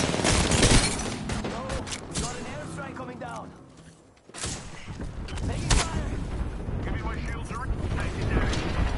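Bursts of gunfire from the battle royale game Apex Legends crackle and boom in rapid volleys, loud and close, with a brief lull midway before the shooting resumes; voices talk over the fighting.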